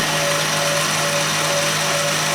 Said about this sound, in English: whisk that for a couple of minutes until you've got soft peaks